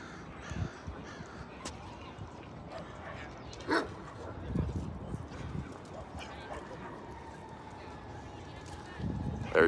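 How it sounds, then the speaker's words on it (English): Several dogs bark on and off in the distance during an early-morning walk up toward a city view, mixed with crows cawing, faint footsteps and low outdoor background noise. "A lot of dogs early on."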